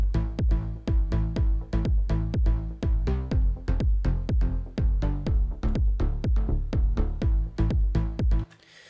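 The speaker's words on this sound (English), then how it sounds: "we'll drop the kick in there just to let you hear it on its own" Deep house bassline in an Anjunadeep style joined by a kick drum, thumping steady four-on-the-floor pulses locked with the rolling low synth notes, loud and dense with no voices, stopping just before the end.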